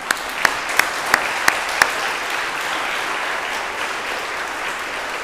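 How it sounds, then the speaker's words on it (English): A church crowd at a Lutheran anniversary celebration and hymn festival applauds, with a few sharp, loud claps early on over a continuous, even roar of clapping. "So let's give them a round of applause."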